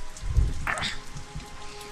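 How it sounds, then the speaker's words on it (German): Rain in Batman Arkham Asylum, a soft steady patter of falling rain with a low rumbling swell near the start, moderately quiet and with no talking. "Und es regnet."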